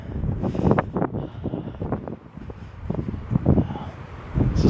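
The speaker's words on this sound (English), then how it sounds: "I just want to listen to the sound of the wind through the pines" Steady wind gusting through dwarf pine trees on Long Island, a broad rushing hiss rising and falling in close, fairly loud waves with rustling needles, no talk.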